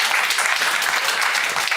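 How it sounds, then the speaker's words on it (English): Steady, dense applause fills a conference hall at the close of a talk on EU digital identity wallets, many hands clapping at once with an even wash of sound throughout. "A round of applause."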